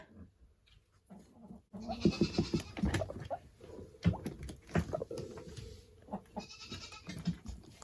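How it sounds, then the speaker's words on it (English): High-pitched squeaking and whistling calls from a guinea pig, repeated on and off with faint rustling, close by. "Did you hear him squeaking? That's the noise guinea pigs make."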